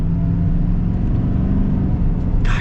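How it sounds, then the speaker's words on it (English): A GMC Sierra 3500 Denali dually pickup accelerates, its engine giving a loud, steady low rumble from inside the cab with no talk over it. "we are going to be getting our acceleration here now with the 3500"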